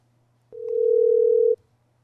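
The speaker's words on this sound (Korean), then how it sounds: "중국 현지에서 전화로 연결해 보겠습니다" A telephone dial tone heard while placing a call to China: one steady, pure tone lasting about a second, clean and close, with only faint hum around it.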